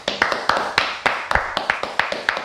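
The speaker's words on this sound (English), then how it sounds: "round of applause for Kieran's story" Applause for someone's story: a small group or a single person clapping in close, crisp, evenly spaced claps, each with a short ringing tail, repeated about every quarter second.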